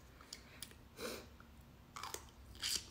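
A crunchy, tart and tangy pickle slice is bitten and chewed close up, giving several crisp crunches and wet clicks spread over a few seconds in an otherwise quiet room.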